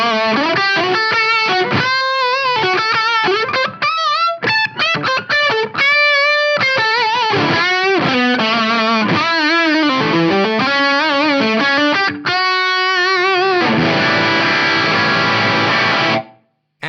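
Distorted electric guitar played through a Mesa/Boogie Studio Preamp with the graphic EQ's 750 Hz slider boosted for a thick mid-range, strummed chords and sustained notes ringing loud and continuous, ending on a long ringing chord.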